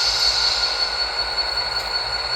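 A steady, continuous hiss of air release from a LokSound v5 sound decoder in a Rapido GP40 model diesel locomotive, its independent brake toggled off, close and unbroken throughout.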